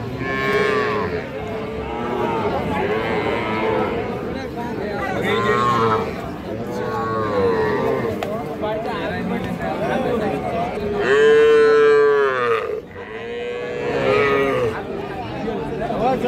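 Heifer calves, including a Sahiwal, moo repeatedly at a busy cattle market in Ambari, with long drawn-out calls rising over a steady background of crowd chatter and people talking.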